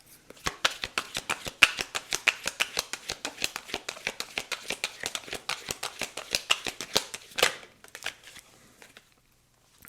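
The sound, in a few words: shuffling oracle cards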